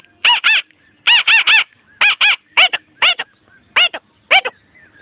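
A human voice imitates a parrot with shrill, nasal squawks, delivered in quick clusters of one to three calls separated by short pauses.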